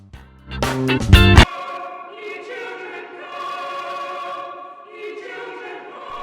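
A community choir rehearses for a charity event, singing sustained, layered harmonies at a moderate distance after a brief loud burst of noise at the start.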